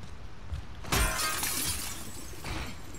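Window glass shattering in The Last of Us Part II: a sudden loud crash followed by a tinkling, scattering spray of shards over steady background noise.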